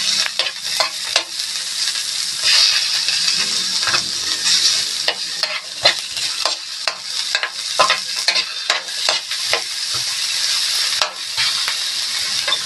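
Onion sautéing in a pan gives a loud, continuous close sizzle, with repeated stirring scrapes and clicks throughout.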